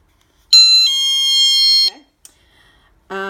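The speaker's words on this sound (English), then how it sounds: "So chime basically just says that whenever it is moved away from the window." A GE dorm alarm kit's window sensor chime sounds loudly for over a second, then cuts off; a brief click follows, and another short tone begins at the end.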